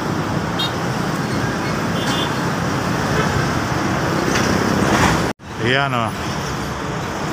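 Big Coca-Cola distributor trucks pass on the road by the bridge over the Talomo River in Davao, making a continuous loud traffic roar with a faint horn toot. Someone speaks briefly, and the sound cuts abruptly partway through.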